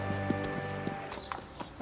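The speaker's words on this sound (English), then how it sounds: "Few can perform this exacting dance with the power and precision of the Spanish horse." Hooves of a Spanish horse performing dressage, a steady rhythmic clip-clop of footfalls on firm ground, close and moderately loud with a low background hum.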